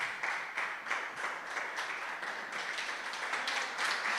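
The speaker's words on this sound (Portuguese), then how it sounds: "Pode sentar e aplaudir o Senhor bem forte, hein?" A church congregation claps together after being told to sit and applaud the Lord loudly, a steady dense patter of many hands at moderate distance, continuous for a few seconds with no voices over it.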